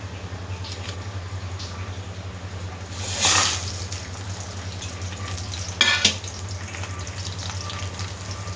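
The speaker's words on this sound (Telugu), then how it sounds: "ఇవి బాగా రోస్ట్ చేయాలండి." Ingredients for gongura pickle dry-roast in a pan, giving a soft, steady sizzle with a couple of brief, louder stirring scrapes, heard close and without talk.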